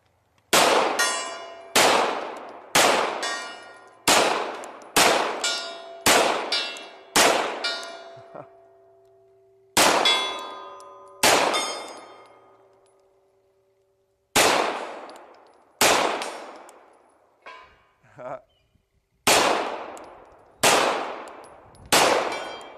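Beretta 92FS pistol shots striking a steel gong at long range, a run of loud sharp cracks each followed by a long ringing metallic clang, fired in quick bursts with short pauses between groups.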